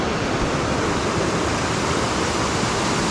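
Mountain stream rushing steadily over rocks on a hiking trail above Lake Como, a loud, close, unbroken wash of water with no other sounds.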